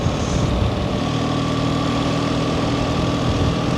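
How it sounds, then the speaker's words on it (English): A BMW R 1300 RT touring motorcycle's boxer twin idles steadily nearby, a low, even rumble with a faint higher hum, no voices over it. "that boxer engine, that tractor"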